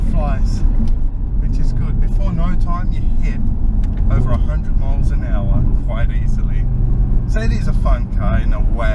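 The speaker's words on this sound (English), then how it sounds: "In manual mode, the car launches and it flies" A loud, steady engine roar from an Audi TT RS five-cylinder sports coupe accelerating hard, deep low rumble throughout, while a person talks over it.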